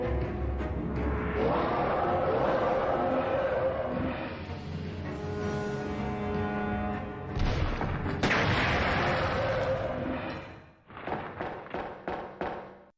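Gunfire and an explosion in the video game Resident Evil 2, a sustained roaring burst with heavy booms, then a series of sharp shots and thuds near the end, loud with no talk.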